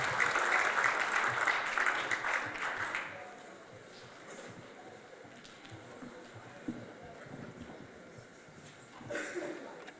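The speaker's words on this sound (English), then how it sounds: "Please give them a big round of applause as they come up to share with you the program and some words of" Audience applause at an evening event, loud for the first three seconds and then fading to a quiet room murmur, with a brief swell of clapping near the end.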